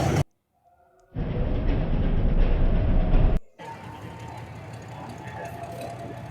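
The Saraighat Express passenger train rumbles loudly past at close range as it arrives at a station for a couple of seconds, then cuts to a quieter station hum of crowd noise.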